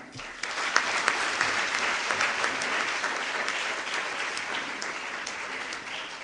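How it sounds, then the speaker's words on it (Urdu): A school audience applauds teachers at an education campus event, with clapping that starts abruptly and continues as a dense, even round of many hands for several seconds, with no talking over it. "میری گزارش ہے آپ تمام سے کہ آپ ان ٹیچرز کے لیے تالیاں بجائیں۔"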